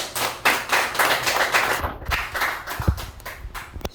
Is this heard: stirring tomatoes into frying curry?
no